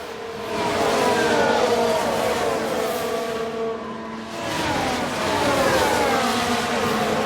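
Mercedes Formula 1 car in the F1 Manager 2022 video game racing past, a high engine whine swelling, fading and rising again as cars pass, steady and fairly loud with no talk.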